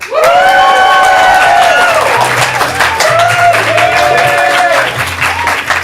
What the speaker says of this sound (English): you cheer wildly like this